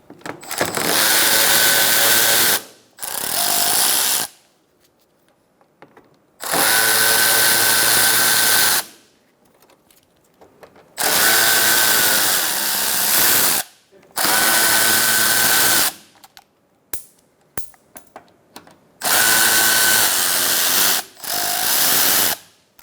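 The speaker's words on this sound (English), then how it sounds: "Using a T30 Torx bit socket, remove your Torx bit screws." A power tool with a T30 Torx bit removes screws on a 2012–2018 Ford Focus 2.0L, whirring loudly up close in five separate bursts of about two seconds each, with quiet gaps and small clicks between them.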